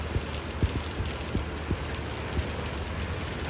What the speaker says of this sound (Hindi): बारिश हो रही है